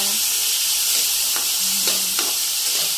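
Garlic, onion, tomato and ginger sauté in hot oil for squid adobo, a loud continuous sizzle and hiss punctuated by a few brief clinks and scrapes of stirring.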